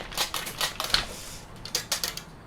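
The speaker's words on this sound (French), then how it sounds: "Des amortisseurs qui font pas mal de bruit." Shock absorbers on a Traxxas TRX6 RC truck, one of them badly clipped, rattling as the truck is handled: a series of quick, light clacking taps in irregular bursts, close by.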